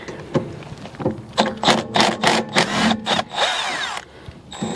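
Milwaukee cordless power tool fitted with a 12 mm socket working a brake caliper bolt on a Honda CR-V rear brake job, a series of loud close bursts of whirring and ratcheting clatter followed by a longer run.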